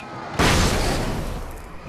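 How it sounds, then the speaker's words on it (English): Flashbang grenade detonating in Alan Wake Remastered, a sudden loud, sharp blast that hits all at once and then decays into a long, bright ringing wash. "Flash bang."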